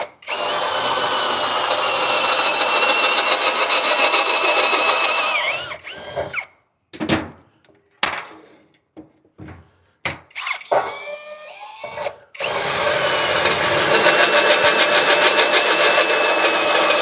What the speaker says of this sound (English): That's a new drill bit right there.